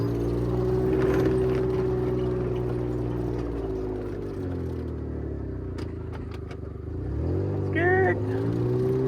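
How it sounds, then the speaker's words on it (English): A Gator utility vehicle carrying a dog runs at steady engine drone with a tonal whine, then revs up near the end as it drives off at a campground, with people talking over it. "Bella loves to ride in the gator"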